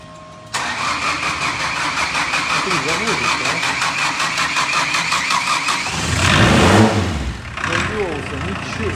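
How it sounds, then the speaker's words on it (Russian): A car that has been sitting on its wheel rims with a wooden interior cranks and catches, then idles with a steady rattle before a brief rev swells and settles, while someone talks over it. "машина на пинке, а завелась"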